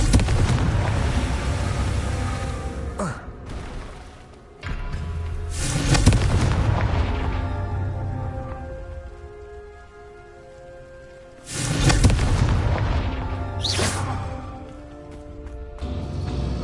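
Confringo spell explosions in Hogwarts Legacy, several loud fiery booms at irregular intervals with crackling debris and rumbling tails between them, close and forceful.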